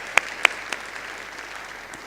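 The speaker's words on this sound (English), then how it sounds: "let's give them a round of applause" A few sharp, isolated hand claps ring out from an audience at a DevOps World awards ceremony in Nice, followed by a thin, fading wash of scattered clapping.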